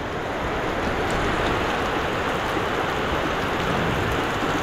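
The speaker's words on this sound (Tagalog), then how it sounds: "Ang lakas ng ulan." Heavy rain pouring down around a farm pond under trees, a dense, loud, unbroken hiss of downpour with a few faint drips standing out, and no talk.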